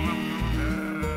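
Sheep marching up Main Street in a Cedar City, Utah, October parade let out loud, close bleats, one long wavering cry followed by a second, with no voices.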